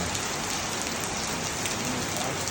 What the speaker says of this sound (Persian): روزی 4-5 ساعت مدام همینجوری بارون میاد.